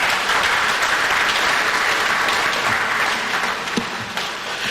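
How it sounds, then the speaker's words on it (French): Steady applause from a large audience at an African culture day ceremony with a head of state, broadband and continuous for the whole stretch, with a few louder claps near the end. "Je vous demande d'applaudir cette idée."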